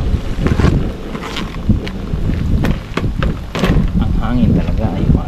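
Wind buffets an outdoor microphone with steady rumbling gusts throughout, during outdoor cooking of ginataang papaya with clams, while a person talks over the noise.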